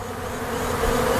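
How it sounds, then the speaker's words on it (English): Honeybees flying out in front of a beehive make a steady, dense buzzing drone that stays close and fairly loud throughout, with no voices. "Look at all the bees that are flying out in front here."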